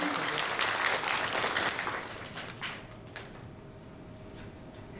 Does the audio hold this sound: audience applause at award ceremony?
yes